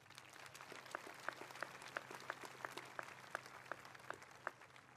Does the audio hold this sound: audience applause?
yes